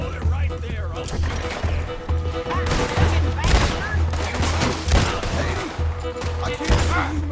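Gunfire from the video game Red Dead Redemption 2 during a side mission shootout, rapid bursts of shots under steady background music and game sounds, with a voice talking over it.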